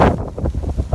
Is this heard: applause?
no